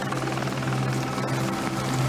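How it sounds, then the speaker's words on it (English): A helicopter's rotor chops steadily with a loud, continuous engine whine, close and unbroken throughout. "As the helicopter landed"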